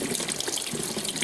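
Tap water runs steadily into a sink while felted soap is washed under the stream, a loud, close, continuous rush of water.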